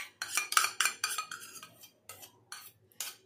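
A spoon scrapes and knocks against a bowl as a bowlful of fresh yogurt is added to fasting idli batter, giving a series of close, bright clinks and scrapes with brief pauses between them.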